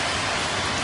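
Steady rain pours down at a Red Sox at Yankees baseball game in September 2010, a dense, even hiss of falling water filling the whole moment with no break.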